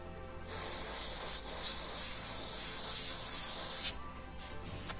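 An airbrush sprays paint onto a custom Harley motorcycle, producing a steady, close hiss that starts abruptly and runs with slight surges, then stops and restarts in short bursts near the end.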